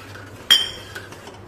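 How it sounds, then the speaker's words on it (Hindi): A single metal clink of a spoon against a pot of milk being stirred as a vinegar-water solution is added, followed by faint soft scraping, with no talking. "उसे थोड़ा थोड़ा करके डालते जाएंगे और चलाते जाएंगे"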